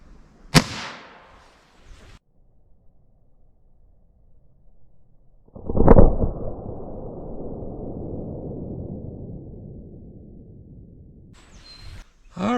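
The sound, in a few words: CCI Stinger .22 LR 32 grain hollow point rifle shot into ballistics gel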